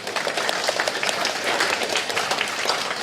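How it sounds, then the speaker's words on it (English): A seated audience at an inspirational talk applauds itself with steady, dense clapping that stays loud and even for the whole stretch, with a faint crowd murmur underneath. "Can you applaud yourself"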